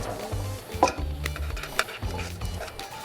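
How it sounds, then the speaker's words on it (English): Carrots and celery stir-frying in a soup pot, with soft scraping stirs, a couple of sharp utensil knocks against the pot and a light sizzle underneath. "So we're basically going to stir fry all this for about 6 or 7 minutes"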